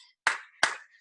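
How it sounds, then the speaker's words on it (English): Two sharp hand claps in unison from a martial arts black belt class, evenly spaced and crisp, with near silence between them. "Everybody warm your hands together. 2 claps."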